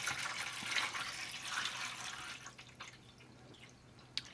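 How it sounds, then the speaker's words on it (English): Filtered water poured from a fridge jug into a five-gallon hydroponic garden system, a close trickling and splashing fill that is strongest at first and then tapers into scattered drips and a final small splash. "go in and pour in the water for this particular system"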